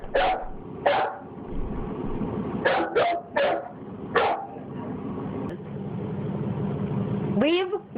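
A dog barks repeatedly in short, loud, close yips spaced irregularly, followed by a rising whine, with a person's voice talking in between.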